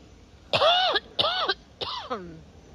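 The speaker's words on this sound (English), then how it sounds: "I'm coughing super hard." Three harsh, raspy coughs with throat clearing, close and loud, evenly spaced over a couple of seconds, with no speech.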